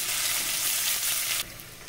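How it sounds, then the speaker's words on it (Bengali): Whole cumin seeds, two green chillies and a little onion drop into the oil left from frying fish and sizzle loudly and up close. The hiss cuts down sharply near the end. "এখানে মাছ ভাজার তেলের ওপরে দিয়ে দিচ্ছি গোটা জিরে ফোড়ন, 2টো কাঁচা লঙ্কা, একটু পেঁয়াজ।"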